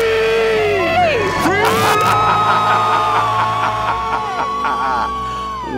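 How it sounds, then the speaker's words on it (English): A family counts down and lets out a loud, joyful group shout of being debt free, voices overlapping in a sustained cheer with children's high-pitched yells, then fading out. "Let's hear a debt-free scream."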